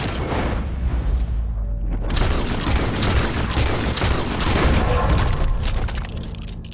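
A gunshot ringing out in Red Dead Redemption 2 as a beast is brought down, set in a loud, dense wash of booming blasts and crackling impacts that swells and holds for several seconds.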